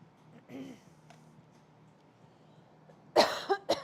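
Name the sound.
coughing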